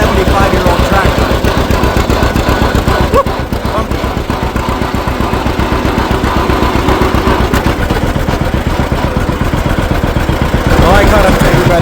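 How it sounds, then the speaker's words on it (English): A 75-year-old antique tractor engine drives along, chugging loudly and steadily with a rapid, even clatter throughout, under a voice. "Not too bad for a 75-year-old tractor."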